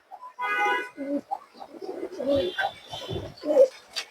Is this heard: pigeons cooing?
yes